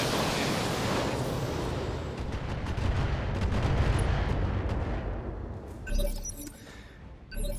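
Mech weapons fire in a BattleTech video game, a dense roaring barrage of blasts and shattering impacts that rumbles on for several seconds before thinning into scattered crackling hits.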